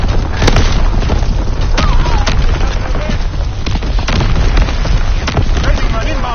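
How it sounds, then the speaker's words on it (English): Artillery explosions in a WWII battle game, a loud continuous barrage of deep booms and cracking blasts over heavy rumble, with scattered gunshots and voices shouting beneath the din. "Enemy artillery, get to cover."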